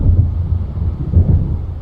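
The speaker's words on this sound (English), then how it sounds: "It seems there's a storm coming." Low rumbling thunder of an approaching storm in the video game Alan Wake rolls continuously, a deep heavy murmur with swelling pulses and no high crack.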